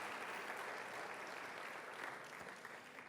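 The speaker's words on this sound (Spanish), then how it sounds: "Dale fuerte ese aplauso a Dios." Church congregation applauding during a service, a steady, even wash of many hands clapping heard at a distance and fairly faint, continuing without a break.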